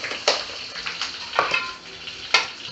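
Curry leaves dropped into hot oil for a dal tempering with the gas flame off, giving a crackling sizzle with sharp spitting bursts that flare and fade close by, no voices.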